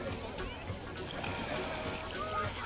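Water poured out at a family campsite, a quiet splashing and splattering, with children's voices talking over it outdoors.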